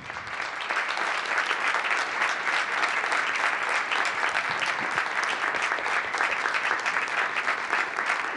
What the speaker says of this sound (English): we want to give you a nice big round of applause